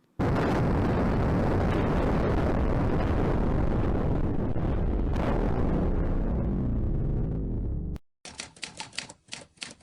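An atomic bomb explosion roars as a loud, sustained, rumbling blast for several seconds, then cuts off abruptly to a few faint clicks.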